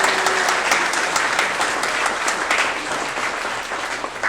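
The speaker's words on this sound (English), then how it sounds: "Can we also please have a big round of applause for Anne and her wonderful work today?" An audience at a 2024 city council candidate forum gives a big round of applause, thick continuous clapping close and loud from the start, easing slightly toward the end.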